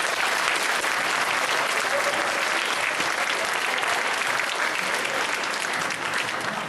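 Audience applause at a school holiday celebration, a dense, steady wash of many hands clapping at close range that keeps going for several seconds without pause.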